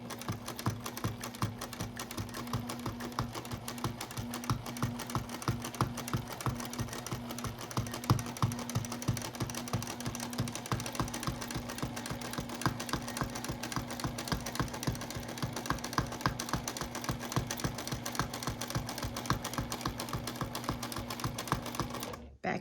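A sewing machine quilts a petal wreath along a Westalee ruler with a fast, even stitching rattle and steady motor hum running continuously for over twenty seconds, moderately quiet and without speech.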